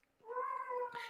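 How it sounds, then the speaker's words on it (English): A pet cat gives a single clear, drawn-out meow, fairly close and alone, followed by a brief rustle at the end. "That's my cat."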